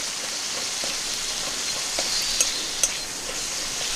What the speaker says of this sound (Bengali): হলুদ গুঁড়ো, নেড়ে নিচ্ছি। মশলাটা ভালো করে কষে নেব।